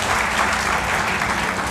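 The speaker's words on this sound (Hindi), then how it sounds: "मान्यवर वीर सिंह बहुत जी, जोरदार ताली बजाकर एक बार उनका स्वागत करें।" Loud, dense clapping from a crowd at a social organisations' joint front gathering, welcoming a speaker with continuous applause close by.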